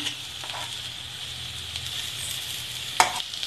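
Potato masala with mashed potato and Kashmiri chilli powder is stirred in a sizzling pan, a continuous close frying hiss with soft scraping and a sharper utensil knock near the end.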